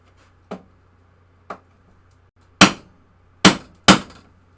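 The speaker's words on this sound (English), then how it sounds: "Got my hammer." A hammer strikes five times during a pinball machine post rebuild with T-nuts. Two light taps come first, then three sharp, loud blows close by, each ringing briefly over a faint low hum.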